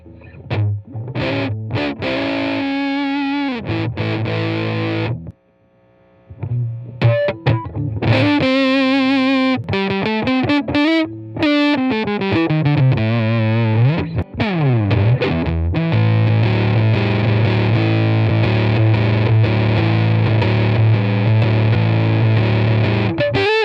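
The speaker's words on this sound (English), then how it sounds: "let's check out this Nettuno or Neptune Fuzz" Electric guitar played through a Nettuno (Neptune) fuzz pedal, a thick distorted tone running through riffs, slides and sustained notes with a short pause near the start, loud and close without talk.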